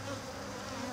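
A dense, steady buzzing of many bees, close and continuous, with no voices.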